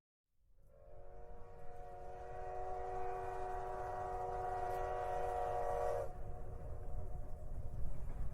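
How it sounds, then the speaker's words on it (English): Train horn sounding a long, steady chord over the rumble of a passing train, loud and close, rising after a short silence and holding for several seconds before the horn cuts off, leaving the rolling rail noise alone. "So, Gunny, bring that train in."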